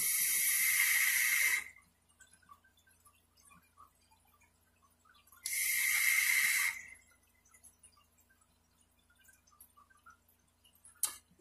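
Two long, airy draws through a 25mm Zeus rebuildable tank atomizer give a smooth, bright hiss each time, close to the mic with quiet pauses between and a brief click at the end.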